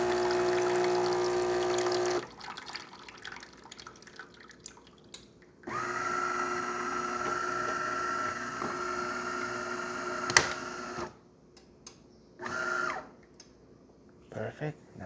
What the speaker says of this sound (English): It's going to do the rinsing cycle,